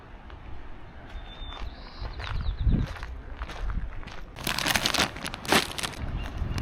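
Footsteps crunching along a trail in San Francisco, uneven crackling steps on gravel or leaves at close range with rustling in between, a faint bird chirp early on.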